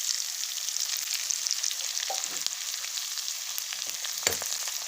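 Onion fries in a pan while being stirred, a bright continuous sizzle close by, broken by a few short scraping strokes of a spoon, with no one speaking.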